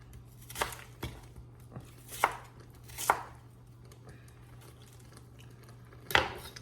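Knife chopping onions into chunky strips on a board, about seven sharp separate thuds at uneven intervals, close and fairly quiet over a low steady hum.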